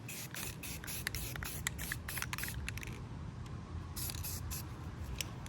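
Spray paint hisses in repeated short bursts as a first patina coat goes onto a surface, with quieter gaps and soft handling noise between the sprays.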